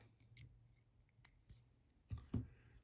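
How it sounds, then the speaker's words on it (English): Small scissors snip off excess black tying thread at a fly-tying vise, with a few faint clicks and then two close, crisp cuts in a quiet room. "I'm going to cut the excess of the thread off"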